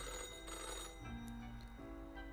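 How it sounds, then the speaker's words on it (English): An old-fashioned telephone rings in the office setting of the video game Death and Taxes, a quiet, steady bell tone that shifts pitch partway through, with no talking. "The old-fashioned phone again rings right as you settle in."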